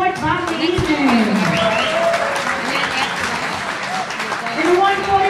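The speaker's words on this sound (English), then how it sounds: "How about a big round of applause for our fourth boxing evening?" A crowd applauds at an amateur boxing evening in a gym, with clapping spread beneath a voice speaking over it.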